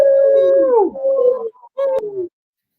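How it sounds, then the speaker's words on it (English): Several animals howl together close by, their long sliding tones overlapping, then break off into a short pause before one more howl ends the sequence. "They all howl together."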